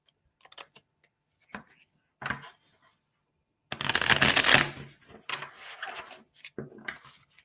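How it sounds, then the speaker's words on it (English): Tarot cards are shuffled by hand close up in a quiet room: a few short riffles, then a longer, louder burst of shuffling followed by scattered soft card taps. "let me pull some cards for you"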